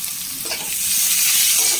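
Bitter gourd pieces sauté in a hot pan with a steady, bright sizzle that swells slightly louder partway through, accompanied by faint stirring scrapes and no speech.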